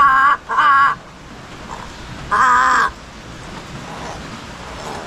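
Chicken clucking loudly at a rural Philippine coop, a quick pair of harsh squawking bursts followed by a longer one, then quiet outdoor ambience.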